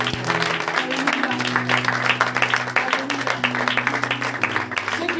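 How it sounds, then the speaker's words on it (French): Church congregation at a family conference applauding and acclaiming the Lord, steady sustained clapping with crowd voices mixed with a held musical tone underneath, loud and continuous throughout. "Et on peut acclamer le Seigneur."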